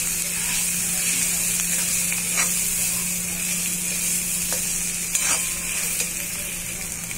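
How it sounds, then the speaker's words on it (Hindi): Potato filling with cumin powder being stirred in a pan for spring rolls, under a loud, steady frying hiss with a few faint scrapes of the spoon, close by. "अब इसमें हम आलू डालेंगे, हमने आलू को भी डाल लिया है, और इसको हम मिक्स कर लेंगे अच्छे से।"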